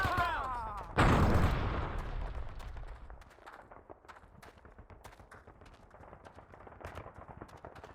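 Gunfire in the Vietnam War shooter game Men of Valor during urban street fighting, opening with a shouted voice and then a sharp heavy blast, followed by scattered distant shots and crackling under a fading rumble.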